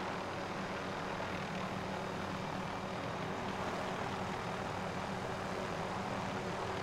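A military helicopter in Call of Duty: Modern Warfare, a steady, droning engine and rotor roar that holds constant without letup, fairly loud and close.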